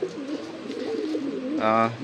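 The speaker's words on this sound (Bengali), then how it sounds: "এই হলো দাদা আপনার দুই পিস কবুতর" Pigeons coo in low, throaty murmurs close by at a pigeon loft, with someone speaking briefly over them near the end.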